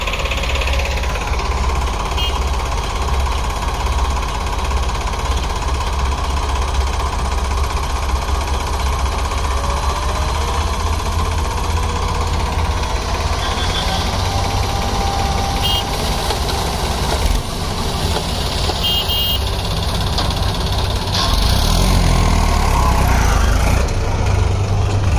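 A tractor engine runs steadily and loudly throughout, with a rough, chugging drone that stays constant and close, no voices over it.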